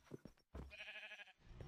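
A single sheep bleat from the Minecraft video game, a short nasal wavering cry lasting about half a second, preceded by faint soft sounds.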